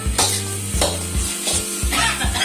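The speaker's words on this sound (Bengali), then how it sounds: "এটা এখন ভালো মতো করে এখন ফ্রাই হবে নুডলসটা" Noodles sizzle and get stirred in a pan with red food colouring, a steady frying hiss broken by rhythmic scraping and tossing strokes, close and moderately loud with no talking.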